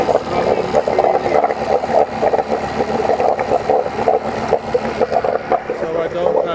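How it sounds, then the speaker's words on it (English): A Yamaha outboard engine runs steadily and loudly close by, a continuous droning hum with a whirring edge and no pauses, its cooling water flowing freely. "Now I have the engine running, and you can see that the water is running freely."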